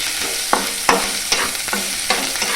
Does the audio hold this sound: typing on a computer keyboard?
no